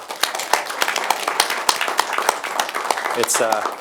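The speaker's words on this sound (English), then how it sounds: "let's give her a round of applause" A small crowd claps in scattered, uneven applause while a voice talks over it.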